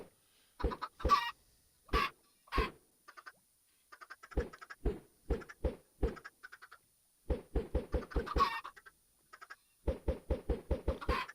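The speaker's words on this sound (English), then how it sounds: "Chickens are in there." Chickens in a video game cluck in short, clipped bursts of repeated clucks separated by brief pauses, clean and close with no other sounds.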